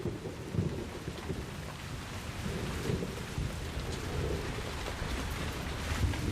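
Steady rain falling in a forest during the rainy season, with low rolling thunder rumbling beneath the constant hiss of drops, moderately quiet and continuous.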